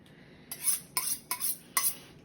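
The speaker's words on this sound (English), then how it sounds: "So I'm just sharpening my knife." A kitchen knife is drawn across a sharpener in four quick, bright metallic strokes, close and fairly quiet, with brief pauses between them.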